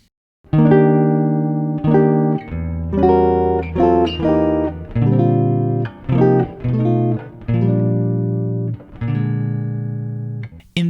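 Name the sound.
jazz guitar chord melody of Silent Night, measures 11 to 14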